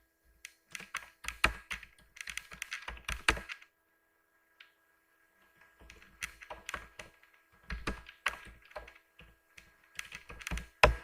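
Keys clatter on a computer keyboard as a search is typed, two quick bursts of close, crisp tapping separated by a short pause, with no talking.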